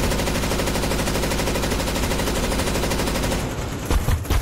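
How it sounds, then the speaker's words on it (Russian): A machine gun fires in Counter-Strike 2, a loud continuous rapid burst lasting several seconds before stopping, followed by a few scattered clatters. "Взять пулемет."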